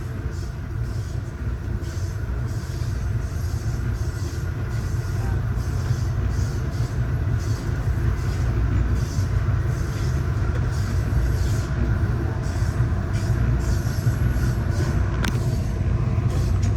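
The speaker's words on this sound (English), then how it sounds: "three eastbound BNSF Railway loaded unit coal trains from the Powder River Basin in Wyoming passes" Three eastbound BNSF loaded coal unit trains from Wyoming's Powder River Basin roll past an Amtrak California Zephyr, a steady heavy rumble of wheels and cars filling the whole stretch, continuous and close without letup.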